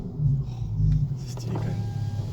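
Volkswagen Golf R32 with a single exhaust silencer idling, a low steady burbling rumble close by, with someone talking over it.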